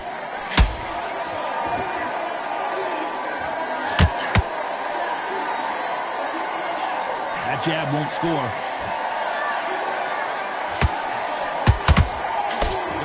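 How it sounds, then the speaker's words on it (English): Boxing arena crowd in a steady low murmur throughout a bout, with sharp thuds of punches now and then and a commentator talking over the hum. "Crowd here cannot wait. They've been buzzing all day long"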